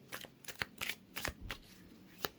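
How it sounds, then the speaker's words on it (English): Tarot cards being shuffled by hand at close range: a run of crisp riffling bursts and soft slaps in an uneven rhythm over about two seconds, with no voices. "So I will shuffle these cards."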